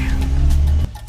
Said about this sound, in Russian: Пришел наш автомобиль.